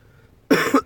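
After a near-silent moment, a single close, harsh cough bursts out in two quick spasms.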